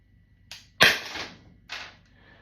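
A Byrna LE less-lethal launcher fires a shot: a sharp, close pneumatic crack with a hissing tail, preceded by a softer click and followed by a second hiss of gas, no voices.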